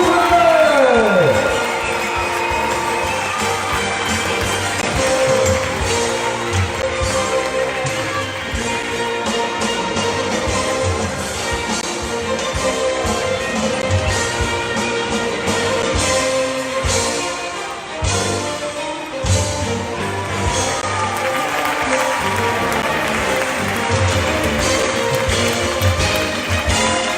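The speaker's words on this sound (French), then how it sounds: "applaudissements pour ce jeune artiste" A circus audience at Cirque Medrano claps and cheers for a young performer at a Hanukkah candle-lighting event. The sustained, fairly loud crowd noise mixes with voices and other busy sound throughout.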